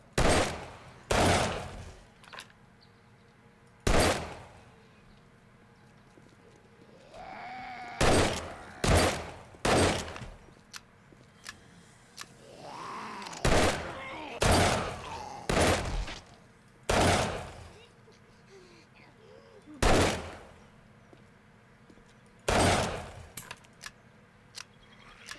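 Single gunshots from a gun in the video game 7 Days to Die, loud sharp cracks spaced irregularly with short pauses, some in quick pairs, over quiet ambient background.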